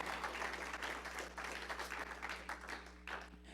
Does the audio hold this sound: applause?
yes